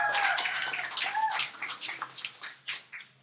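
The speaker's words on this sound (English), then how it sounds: "Everybody give her a big round of applause." Scattered clapping from a small audience welcoming a contestant onto a stage, a loose flurry of claps that grows sparse and uneven before dying away.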